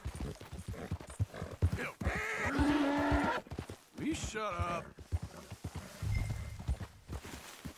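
A horse in Red Dead Redemption 2 clip-clops slowly along a trail, its hooves thudding at a relaxed pace, with a snort or whinny and tonal game sounds, while someone talks over it.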